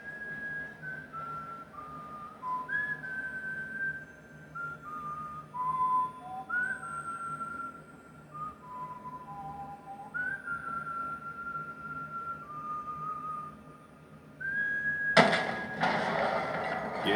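A melodic human whistle from a scene of the film Animal World, a tune of sustained notes with short pauses, clear and up front, ending in a sudden loud burst of noise.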